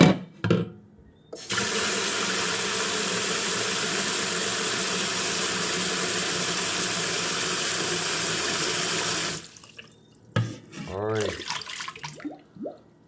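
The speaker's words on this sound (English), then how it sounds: "I'm going to come here now and I'm going to fill this with water." Tap water runs in a strong, steady gush into a pot for boiling sea moss for about eight seconds, then shuts off, followed by someone speaking.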